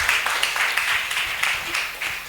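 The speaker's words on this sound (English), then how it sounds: "Please, can we clap for Francis?" Conference audience claps in a steady, moderately loud round of applause in a hall, individual claps blending into a continuous patter.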